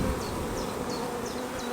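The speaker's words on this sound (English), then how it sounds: "we can just brush these bees off, they'll go back to their hives" Honey bees buzz around an open hive during queen rearing, a dense continuous drone close by, with a few individual bees whining past at a faint, repeating pitch over the steady hum and no talking.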